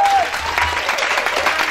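Congregation clapping at a Friday-night prayer vigil, a dense, steady patter of applause throughout with a brief voice at the start.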